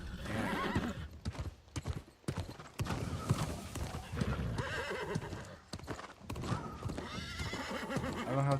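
Horse in the New World video game clip-clops along at a steady gait with loud whinnies and neighs, close up, amid game sound effects and music.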